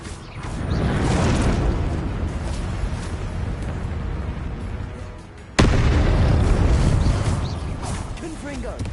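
Confringo blasting spell explosions in Hogwarts Legacy, a loud roaring burst that sustains and fades, then a second sharp blast striking midway and rumbling on, close and powerful.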